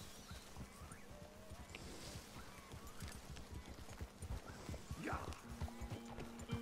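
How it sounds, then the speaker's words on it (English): Hooves of a pure white horse clip-clop steadily in Red Dead Redemption 2, a rhythmic mid-distance trot over ambient outdoor game sound, with a brief whinny-like call near the end. "Dutch has a pure white horse."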